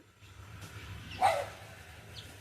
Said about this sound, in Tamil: ஏதோ ஒரு நாய் பின்னாடி துரத்திட்டு வருதுன்னு நினைக்கிறேன்